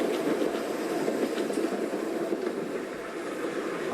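A train rolls steadily along the rails with a continuous rumbling roar and faint rhythmic clickety-clack of the wheels, close and loud, with no talking.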